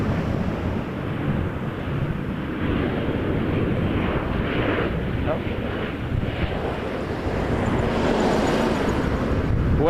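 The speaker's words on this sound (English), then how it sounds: "WestJet coming in while I was looking at my screen" A WestJet airliner passes at Toronto Pearson airport, a loud, steady broadband jet roar that swells slightly toward the end, mixed with wind noise on the microphone and faint talk beneath.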